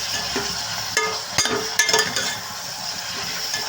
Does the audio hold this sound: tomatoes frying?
yes